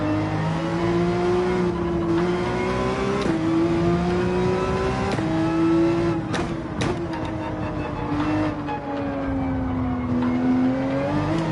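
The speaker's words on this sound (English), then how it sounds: "Oh, there's a car behind us. I can hear him." Race car engines roar through an online Gran Turismo 7 race, a loud continuous whine climbing and dropping with each gear shift, with another car running close behind.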